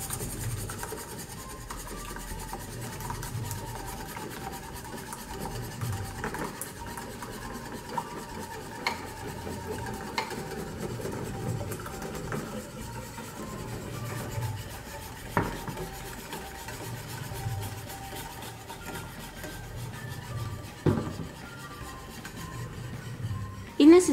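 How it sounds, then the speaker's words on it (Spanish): Steady scraping and rubbing of a spoon or whisk stirring corn flour into milk for atole, continuous and moderately close with occasional clicks against the pot, a voice speaking over it. "Y necesitamos estar moviendo para evitar que se pegue o que se hagan grumos."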